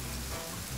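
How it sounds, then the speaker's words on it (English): Light drizzle falling outdoors, a steady dense hiss of fine raindrops on surfaces, continuous and even throughout with no voices. "I think it's starting to drizzle, frizzle."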